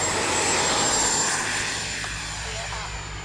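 An FMS Integral 80mm RC jet passes in flight, a steady broadband whooshing roar that is loudest at first and eases slightly as it draws away, with wind noise and a faint voice underneath.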